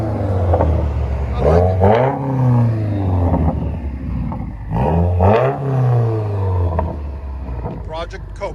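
A 2017 Subaru WRX with a dual exhaust and an Invidia muffler delete revs loudly up close in two main surges that rise and fall, with a rumbling idle between them and a brief voice near the start.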